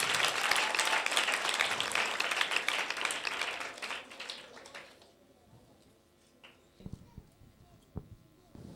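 A church congregation applauds for the children and teachers, a dense burst of clapping for about five seconds that fades out, followed by a few scattered taps and faint sounds.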